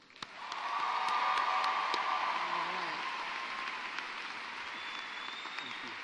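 A large university commencement crowd breaks into sustained, dense applause that builds quickly and holds steady for several seconds, heard from within the audience.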